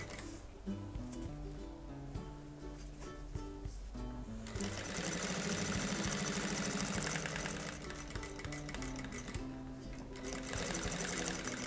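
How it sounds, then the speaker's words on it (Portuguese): A sewing machine runs in steady bursts while stitching around the edge of a fabric toiletry bag, a rapid mechanical whir that grows louder and faster midway, with a brief pause near the end. "vou bater uma costurinha em volta. Costurinha de pé de máquina. Começo com retrocesso."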